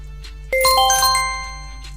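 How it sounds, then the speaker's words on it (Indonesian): A phone plays a test notification chime: a bright, layered ringtone-like melody of clear ringing tones that starts abruptly partway through and sustains, fading gradually, over a steady low background hum. "Pesan, ini hanya tes notifikasi."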